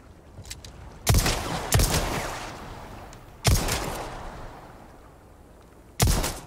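Gunshots are fired at a lake in the video game Resident Evil 4 Remake: four loud, booming reports at spaced intervals, each trailing off into a long echoing decay.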